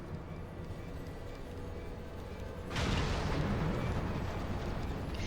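In Final Fantasy XIV, an airship's steady rumbling roar is broken by a sudden heavy cannon blast partway through, followed by sustained booming noise.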